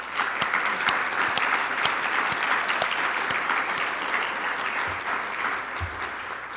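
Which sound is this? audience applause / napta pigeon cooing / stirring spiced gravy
audience applause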